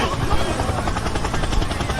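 A helicopter, heard at the Linnanmäki amusement park, gives a loud, rapid, rhythmic blade chopping that continues steadily, with voices faintly mixed in.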